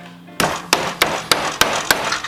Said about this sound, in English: Okay, I'm using a stiletto hammer.